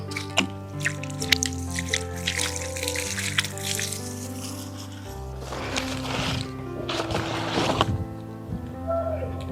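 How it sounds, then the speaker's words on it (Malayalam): Water splashes and trickles onto soil around a newly planted cashew sapling in a couple of short pours, over soft background music. "ഇപ്പം നമുക്ക് വെള്ളം ഒഴിക്കാം"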